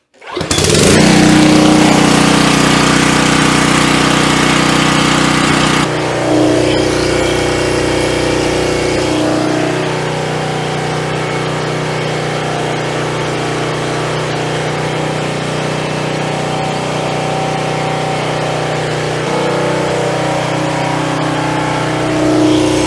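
Powermate gasoline engine starting and running, a loud close drone from the start with a shift in pitch around six seconds, then steady rough running throughout.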